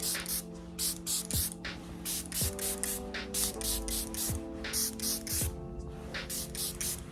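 Makeup By Mario setting spray misted in a rapid series of short, loud, close hissing bursts, about a dozen puffs in irregular succession over a faint steady hum.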